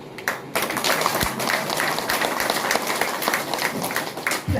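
An audience at a seminar in a town hall in Banka, Bihar, claps. The applause is dense and sustained, with crisp overlapping hand claps that fill the room from start to finish.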